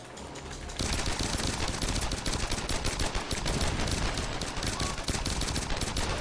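Rapid automatic gunfire from Tomb Raider 2013 multiplayer pours out in a loud, continuous burst after a brief quieter lead-in, dense and close, with no pause for several seconds.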